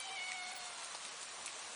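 Steady, dense hiss of heavy rain in a horror video game, even and continuous throughout, with a faint high tone drifting in near the start.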